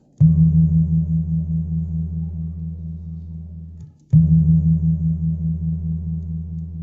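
Two strikes of a Karo gendang gong sound one after another, each a deep, sustained low hum that pulses and slowly fades before the second strike rings out just as loudly, with no voices.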